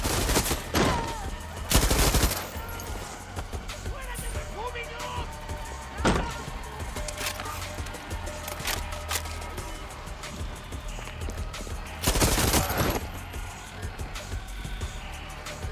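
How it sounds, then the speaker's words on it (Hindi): Gunfire in the video game Far Cry 6: a close, loud firefight with repeated bursts of rapid shots and scattered single cracks over several seconds, with background game noise between volleys. "सारी गोलियां मिस यही तो चाहिए"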